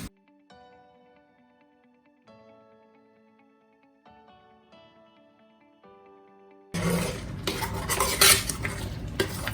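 A spoon scrapes and clatters in a pot of dal makhani as kasuri methi is stirred in. Soft tonal music plays first, then loud, steady stirring fills the last few seconds.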